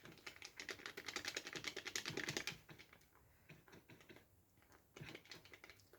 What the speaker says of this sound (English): I like the sound of a good punchy button.